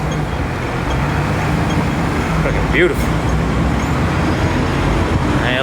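Street traffic with double-decker tourist buses on a busy Hong Kong road, a steady loud roar of engines and road noise with a voice talking over it.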